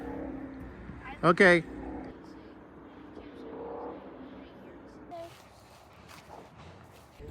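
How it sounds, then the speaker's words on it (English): Freeway traffic beside a campsite, a faint continuous drone of passing cars with occasional swells, under a brief spoken word and a short burst of voice. "Anything but quiet. Oh yeah, you're right next to the freeway."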